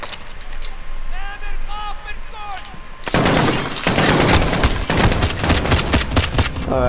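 Call of Duty Modern Warfare gunshots erupt in a loud, dense string of rapid cracks after a quieter stretch of whirring game tones, with someone talking over the shooting.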